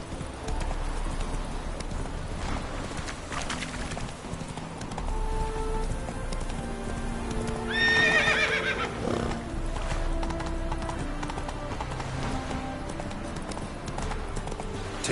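Roach, a horse in the video game The Witcher 3, gallops with steady clip-clop hoofbeats over a continuous outdoor backdrop and gives one loud, close whinny partway through.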